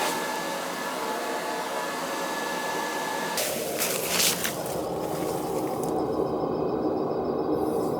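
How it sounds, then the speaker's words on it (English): Riello oil burner running steadily after an annual service with a new nozzle, a loud continuous roaring rush of air and flame with a brief shift in tone partway through, close up and without speech. "Burner head running, it's running clean, just a new nozzle."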